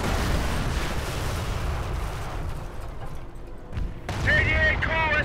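Distant artillery booms and scattered gunfire rumble through a Company of Heroes battle in a besieged city at the Falaise pocket, followed by a burst of radio-style voice chatter over the din.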